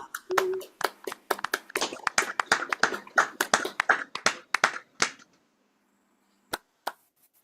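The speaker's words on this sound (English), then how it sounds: "So everybody unmute and clap to thank the old board" Individual people clapping over an online video call to thank the outgoing board, uneven bursts of claps from several unmuted participants for about five seconds, then a couple of isolated claps after a pause.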